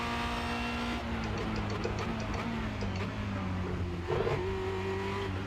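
A Formula Renault 2.0 race car on the Charlotte Roval road course, its engine holding a steady high-pitched drone with small pitch shifts and a quick rise in revs near the end, heard from on board.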